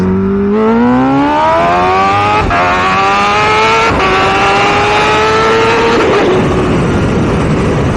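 A Kawasaki Ninja H2 motorcycle screams up through the gears, the engine pitch climbing in loud rising sweeps broken by quick shift breaks, then settling into a rough roar with heavy wind noise.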